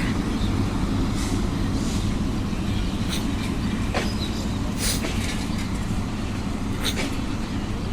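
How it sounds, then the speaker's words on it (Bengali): A long train rolls past close by, a loud continuous rumble of wagons with scattered metallic clicks and clanks over the wheels, steady throughout. "এখনো অর্ধেক ট্রেন বাকি"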